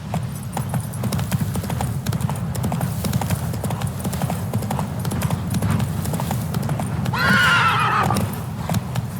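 Hooves clip-clop in a fast, continuous galloping rhythm from a horse in The Witcher 3: Wild Hunt, with a loud whinny rising near the end.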